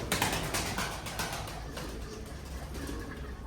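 Pigeons cooing and fluttering close by, with soft rustling and occasional wingbeats over a continuous outdoor background.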